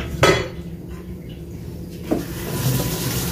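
An old, long-used cooking pot is handled in a home kitchen, with a sharp metallic clank, a second lighter knock and soft scraping in between, close and fairly loud without voices.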